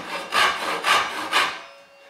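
Japanese hand saw cutting through wood in three close, rhythmic rasping strokes, each a short loud burst with brief pauses between, no talking.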